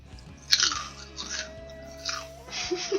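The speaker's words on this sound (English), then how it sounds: "So can everyone hear the crunching of my potato chips?" Potato chips crunched close to a studio microphone, a few sharp crisp bursts separated by quieter chewing, with a faint low hum beneath and no talk.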